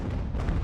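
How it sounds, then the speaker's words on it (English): A mortar round firing in the strategy video game Ultimate General: American Revolution, heard as a short, low, muffled boom rumbling for under a second, fairly faint and alone. "Yeah, it's the mortar rounds."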